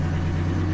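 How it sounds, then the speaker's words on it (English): A Ferrari 458 V8 engine idles with a steady low exhaust rumble, close and even, with no other sounds. "Exhaust sounds amazing"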